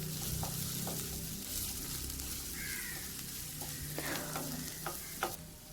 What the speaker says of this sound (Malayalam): അതിലേക്ക് ഒരു സവാള നേർപ്പിച്ചരിഞ്ഞത് ഇട്ട് കൊടുക്കാം. അതൊന്ന് വഴറ്റിയെടുക്കണം എണ്ണയിൽ.